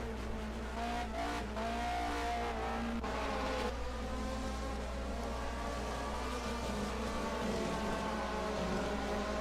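Race cars from the 1980 DRM Division 2 round at the ADAC Bilstein Super Sprint roar along the back straight in a close line, with engines rising and passing, at a moderate distance over a steady background drone.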